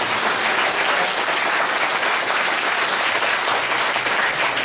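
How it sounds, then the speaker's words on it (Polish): An audience applauds at a music school concert, a dense, steady and loud wash of many hands clapping that fills the whole stretch without a break. "Gromkie brawa!"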